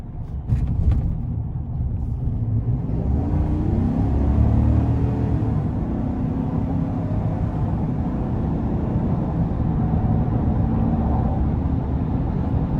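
A 2020 Chevrolet Silverado 1500 High Country pickup with a 6.2L V8 accelerating onto an interstate, a steady low engine and road rumble that builds slightly, heard from inside the cab.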